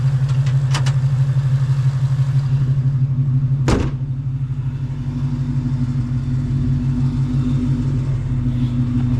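A Coyote-swapped 1991 Ford Mustang Foxbody drives along a road, its V8 holding a steady, loud low drone throughout with a brief sharp transient just before the midpoint.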